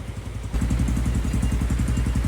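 A Sniper 150 motorcycle engine, freshly overhauled, fires up and runs with a rapid, steady chugging pulse close by, following a brief quieter rumble.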